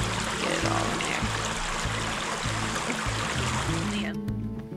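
Creek water flowing beside a campsite, a steady close rushing wash with a rhythmic low thumping underneath that drops away at the very end.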